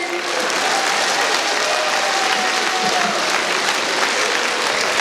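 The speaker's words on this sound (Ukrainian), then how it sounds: "Аплодуємо Колі." Guests at a wedding concert in Truskavets applaud, a steady crowd of clapping hands at moderate loudness, with faint voices and a few tonal sounds under it.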